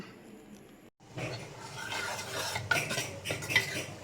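Cooked dal mashed and churned in a pot with brinjal, carrot and beans, a steady scraping, stirring rattle of utensil against the vessel, close and fairly loud after a brief silent gap near the start.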